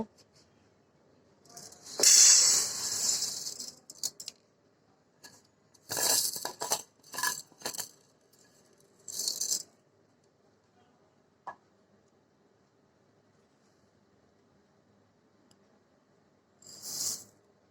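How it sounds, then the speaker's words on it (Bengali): Roasted mung dal, black gram dal and wheat being mixed together in a container: a few short bursts of dry grainy rattling and clinking, separated by quiet gaps. "এখন সবগুলি একসাথে মিক্স করে নেব।"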